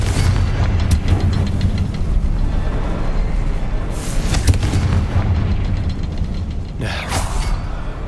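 Fiery Confringo explosion spells in the video game Hogwarts Legacy, with several booming blasts over a constant rumbling game soundscape.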